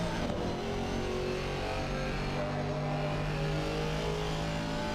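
Race car engine in an onboard lap of Silverstone in a racing game, a loud sustained mid-pitched drone with steady harmonic whine and gear changes as it brakes toward Copse Corner.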